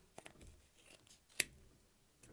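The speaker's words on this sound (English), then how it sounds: "we're going to use our scissors, and then in this gap between them you're going to start to cut around in a circle" Scissors snip through a crocheted gnome tree decoration, cutting around in a circle, with a few soft quiet snips and one sharper close cut partway through, with no talking.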